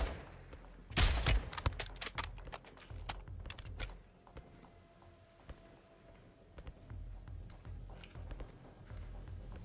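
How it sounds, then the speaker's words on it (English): Gunfire in the Call of Duty Modern Warfare II video game: a loud burst of rapid shots near the start, then scattered quieter shots and clatter with no talking. "Who's shooting at me?"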